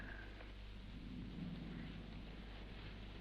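Thunder rumbles low and steady under a constant wash of rain at night, a dense, even roar with no break, with no one talking.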